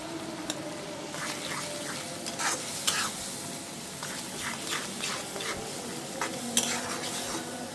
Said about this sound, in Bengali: এই যে মশলা কষানো হয়ে গিয়েছে